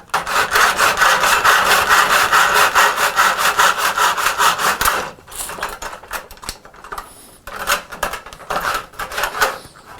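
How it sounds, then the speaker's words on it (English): Hand saw cutting wood for a pentagonal dovetailed bowl, steady rhythmic back-and-forth strokes loud and close for about five seconds, then sparser scraping strokes after a pause. "Really could use to sharpen this saw"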